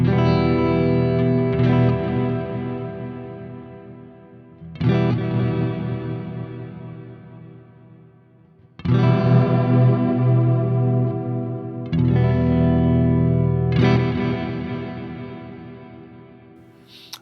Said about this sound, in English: we've got a pretty serious reverb going there